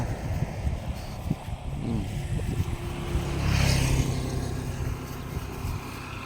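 A car approaches on a rural road outdoors, its engine rumble swelling to a peak midway before easing off, with wind noise and a busy outdoor background.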